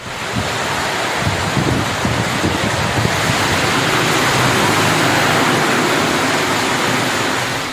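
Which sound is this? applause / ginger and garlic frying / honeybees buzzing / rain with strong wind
rain with strong wind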